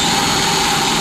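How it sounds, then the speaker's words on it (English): Continuous high-pitched whine of a power drill with a hole saw cutting through a metal gutter, loud and steady for the whole moment without a break. "the hole saw starts to bite in"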